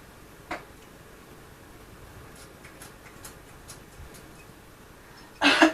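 A short hissing burst of cooking oil spray onto a pan near the end, following a quiet stretch with a few faint ticks and one small knock.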